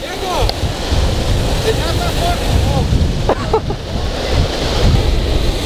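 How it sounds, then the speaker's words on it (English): Gusty wind roars across the microphone alongside a wash of water, with brief faint voices breaking through now and then. "So it's getting windy now too."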